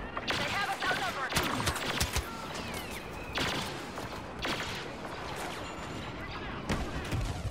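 Explosive blasts and heavy blaster fire in the Star Wars Battlefront Walker Assault mode on Xbox One, with loud broadband bursts repeating every second or so over constant battle noise.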